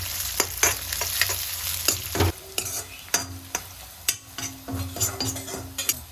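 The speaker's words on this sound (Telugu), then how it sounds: "ఉల్లిగడ్డ పచ్చిమిర్చి వేసేసుకొని ఆయిల్లో మంచిగా బ్రౌన్ కలర్ వచ్చే వరకు వేగనివ్వాలి" Onions and green chillies fry in hot oil for an egg curry, a steady close sizzle broken by repeated scraping and clinking stirs of a utensil against the pan.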